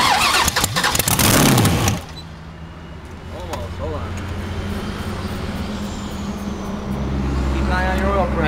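A custom project engine cranks and fires up for the first time, loud bursts of cranking in the first two seconds settling into a steady rumbling idle, with people talking briefly over it.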